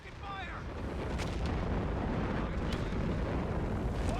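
Artillery in a strategy game lays down a creeping barrage along map corridors: dense, continuous rumbling blasts and booming impacts overlap into a loud, unbroken roar, with whistling shells audible early on.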